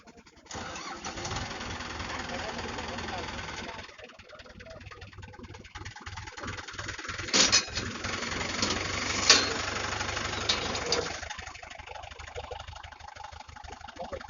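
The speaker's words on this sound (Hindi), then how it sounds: "आप देख सकते हैं अब ट्रैक्टर को निकालने का प्रयास किया जा रहा है।" A tractor's engine runs steadily and fairly loud, with a few sharper bursts, as the broken tractor is pulled out of the Western Yamuna Canal after tipping off an unpaved embankment near Dhanora Jagir village, Ladwa.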